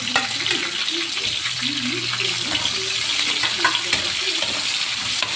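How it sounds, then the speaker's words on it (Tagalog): Garlic and onion sautéing in oil left over from frying potatoes and sweet potatoes for chicken pochero, a steady close sizzle with stirring and scraping, and faint voices in the background. "Kung saan po siya nagprito ng patatas at kamote, doon na lang din po siya magigisa ng mga ricado."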